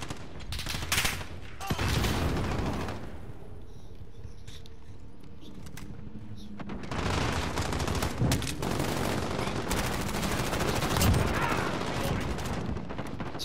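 Heavy gunfire from the video game Call of Duty Modern Warfare, loud bursts of rapid automatic shots and overlapping volleys with a brief lull in the middle, mixed with faint battle noise.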